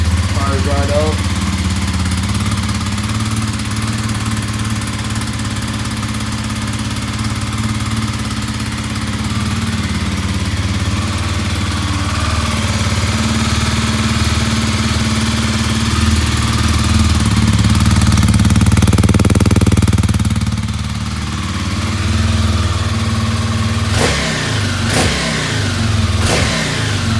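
A riding mower's small engine runs steadily close by at idle for the whole stretch, a constant low droning rumble with slight swells in pitch, and a few sharp clicks near the end.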